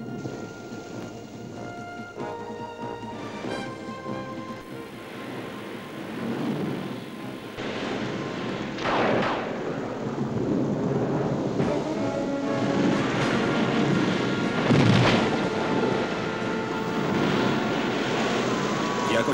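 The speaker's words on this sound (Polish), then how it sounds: "Nie lubię huku piorunów." Thunder rolls and booms through steady heavy rain during a storm in an animated Noah's Ark story, with louder cracks building in the second half over a constant downpour.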